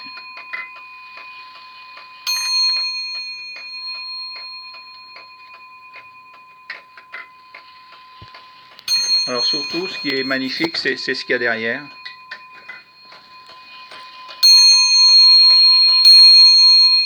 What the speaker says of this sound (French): Elle sonne.